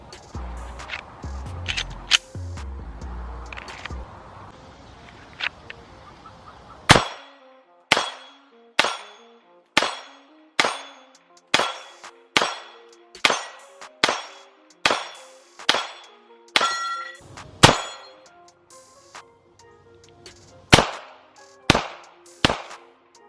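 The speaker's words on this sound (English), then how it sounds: "So we'll take some shots, make sure it can run hollow points" Smith & Wesson M&P 2.0 Metal pistol firing hollow point rounds at a range, about a dozen sharp loud shots at a steady slow pace after a busy opening stretch of clatter.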